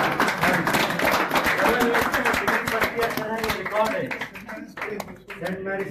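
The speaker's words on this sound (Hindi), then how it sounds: "11 इयर्स और जोरदार तालियां" Audience clapping at a bodybuilding event honoring a Mr. World selectee, brisk scattered hand claps rising and thinning under a loud announcer's voice over a PA.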